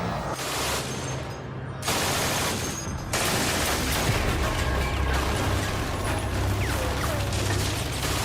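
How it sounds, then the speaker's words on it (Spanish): Rapid automatic gunfire from an MG-42 machine gun roars in long continuous bursts, the shots blurring into a ripping tearing sound, loud and close with a brief pause. "La MG-42 era tan rápida que no se podían escuchar los disparos por separado."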